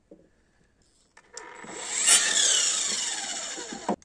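A cordless power saw starts up and bites into a thick log of firewood during winter wood processing in Bulgaria, its motor whining steadily and straining close by for a few seconds before cutting off.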